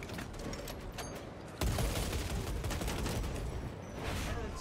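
Dense, continuous gunfire from Warhammer 40K Space Marine 2 battling Thousand Sons traitors, a steady roar of rapid shots and mechanical clatter that jumps louder partway through and holds there with no talk.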